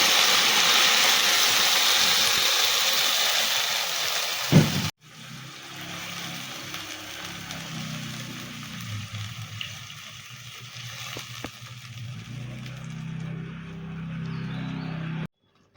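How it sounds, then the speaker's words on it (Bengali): Spinach paste going into a hot pan of ghee, onion and garlic for palak paneer, with a strong steady sizzle that cuts off sharply after a thud, then quieter bubbling and low rumbling. "এখন আমি পালংয়ের পেস্টটা ঢেলে দেব।"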